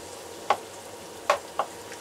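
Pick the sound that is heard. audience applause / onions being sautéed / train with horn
onions being sautéed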